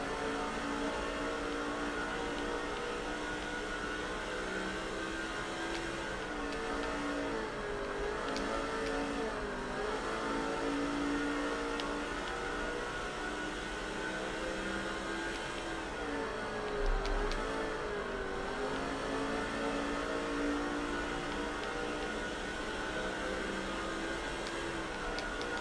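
Race car engine in the NASCAR 06 video game during a Busch Series race at IRP: a continuous, steady droning engine note with slight rises and dips in pitch, sustained at a moderate level throughout with no pauses.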